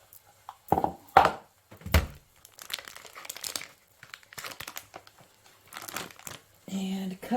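Plastic packaging around a block of Velveeta cheese crinkling and crackling in a kitchen, sharp loud rustles at first, then lighter intermittent crinkles, ending in a brief buzz-like sound.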